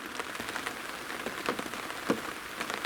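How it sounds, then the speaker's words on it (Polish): Rain falls steadily on a lakeside fishing spot, a dense pattter of drops hitting surfaces close by, continuous and alone with no voices. "Naszły chmury, zaczęło padać."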